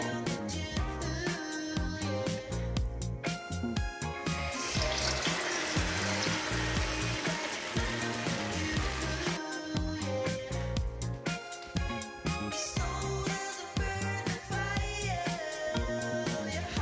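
Pointed gourds stuffed with fish and dipped in batter fry in white oil in a wok, a steady, bubbling sizzle with frequent crackles and pops that runs continuously and stays close.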